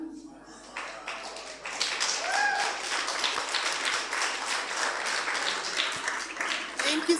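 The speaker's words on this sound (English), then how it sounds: "A big round of applause for Professor Liz." A lecture hall audience gives sustained applause for a guest lecturer, a dense, steady wash of many hands clapping that swells after the first second and carries on loudly throughout.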